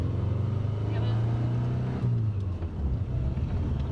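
A Subaru GC8 2.5 RS engine droning and revving under load inside the car as the driver hunts for third gear, loud steady hum with a pitch change mid-shift while people talk.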